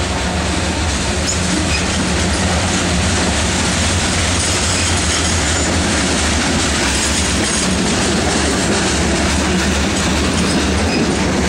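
A Norfolk Southern freight train rolls steadily past on the Piedmont Division's Charlotte District, a loud continuous rumble with rhythmic clickety-clack of wheels and faint squeal, close and unbroken throughout.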